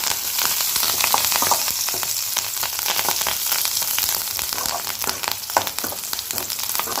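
Curry leaves sautéing in a hot pan for banana stem kootu, giving a steady, fairly loud broadband sizzle with crackling pops and occasional stirring throughout, and no voices.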